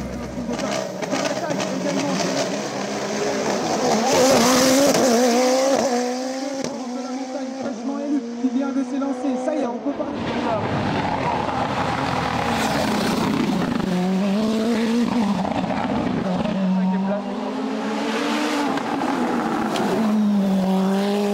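A Nova Proto NP01 Turbo race car climbs a hill-climb course at full throttle, its loud nearby engine rising in pitch through repeated gear changes, with brief drops between shifts and a voice faintly underneath.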